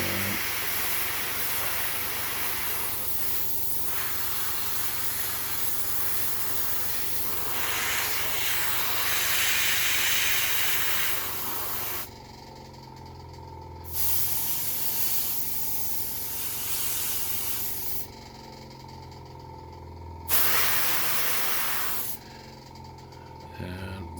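An airbrush hisses paint onto a Warhammer 40k Eldar Farseer miniature in long, steady bursts, with brief pauses between passes and a constant low compressor hum underneath.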